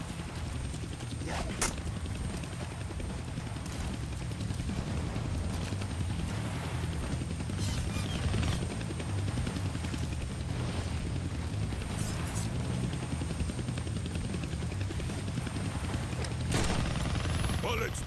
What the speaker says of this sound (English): I can't kill that chopper with my guns, but I can scare him.